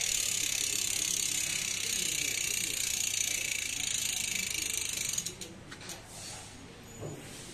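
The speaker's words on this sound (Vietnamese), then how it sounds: "test chuyển động để cho các bác xem" Kinesis sport bicycle with rear derailleur gears and a freewheel ratchet, its pawl buzzing as a steady loud whir for about five seconds, then stopping into a few faint clicks and ticks.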